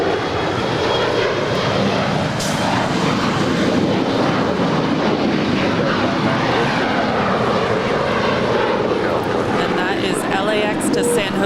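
Airliner taking off at Los Angeles International Airport, a loud sustained jet engine roar filling the whole stretch, with a voice talking underneath.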